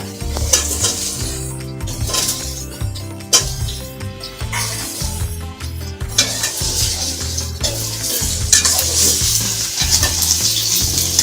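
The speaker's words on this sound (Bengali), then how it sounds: "আমি একটু ভেজে নেব।" Teasel gourd and onions frying in hot oil, a loud continuous sizzle with repeated scraping and clattering as a utensil stirs the pan close up, with no one speaking.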